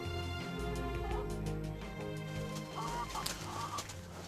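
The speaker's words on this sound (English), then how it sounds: "chickens were roaming free" Hens cluck softly inside a hen house on a vineyard amid a steady low background hum, with a few brief higher calls rising from the flock.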